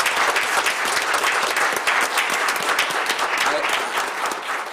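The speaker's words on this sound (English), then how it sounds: "if we could give him a thunderous round of applause" Steady applause from a small group in a Rochester Board of Education business meeting room, dense clapping, close and loud, holding evenly throughout.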